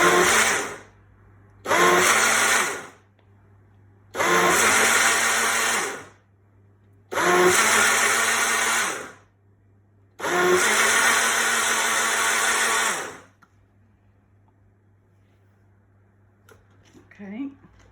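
A Breville Blend Active 0.6L personal blender runs in five loud bursts of whirring motor noise, each a couple of seconds long with short pauses between, followed by quiet and faint handling sounds.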